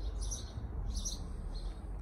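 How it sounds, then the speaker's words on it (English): Birds chirp in short bright bursts among apple and cherry trees in a Russian park-hotel garden, two or three clear call phrases over a steady low background rumble, with no talking. "Can you hear the sound of birds?"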